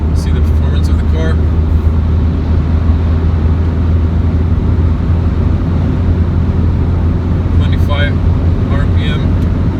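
A Škoda Karoq 2.0 TDI 4x4 pulls hard in sixth gear on a highway, its steady, loud diesel drone and road noise filling the cabin, with speech-like sounds briefly over it.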